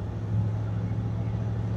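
A 1978 Mercury Grand Marquis two-door with a 400 V8 and dual glass-pack exhausts cruises along, heard from inside the cabin as a steady low engine drone with road rumble, fairly subdued and unbroken.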